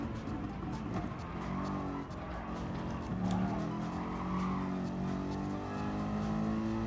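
Race car engine in Gran Turismo Sport, a continuous revving drone with shifting pitch and bursts of tire squeal, heard alone at a moderate, steady level.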